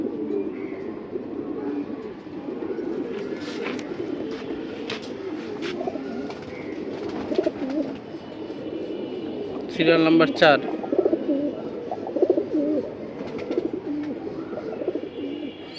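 Caged pigeons, including a pair of short-beaked Musallam pigeons, coo in low, steady murmurs throughout, with someone talking over them and a brief flurry of sharper calls midway.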